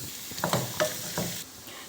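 Onion and capsicum sizzle in a pan with cumin, mustard seeds, urad dal and hing for a vegetable sagu, while a spoon scrapes and stirs in several quick, close strokes.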